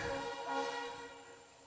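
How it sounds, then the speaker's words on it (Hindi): A train horn sounds faintly in the distance near gate number 4 in Guwahati, a sustained tonal blare fading slightly over its length. "वो भी अभी हॉर्न बजाती है क्योंकि गेट नंबर 4 है"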